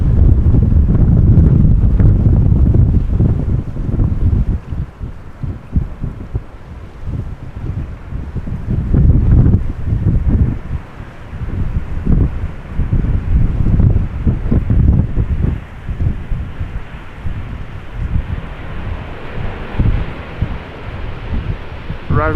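Strong crosswind at Amsterdam Schiphol Airport buffets the microphone in heavy, gusting roars that rise and fall throughout, with a low rumble underneath and a voice faintly heard at times.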